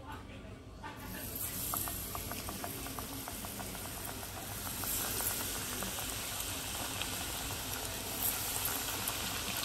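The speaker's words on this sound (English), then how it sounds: "So we can start the frying now." Chicken fingers frying in hot oil for a Guyanese chicken-and-chips dish give a steady, loud broadband sizzle with crackles and pops that runs continuously throughout.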